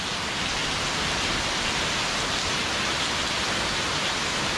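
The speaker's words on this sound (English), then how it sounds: "there's a few people like jumping in and seeing some tropical rain" Tropical rain falling in Phala Ban Chang, Rayong, Thailand, a dense continuous hiss of steady downpour without pauses, loud and even across the whole stretch.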